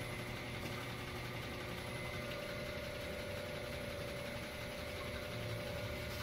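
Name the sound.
air letting into vacuum deposition chamber, pump running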